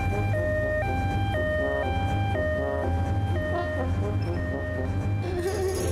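An ambulance siren wails in steady alternating two-tone steps, loud and continuous across a cartoon scene, with heavy layered sound beneath and no speech.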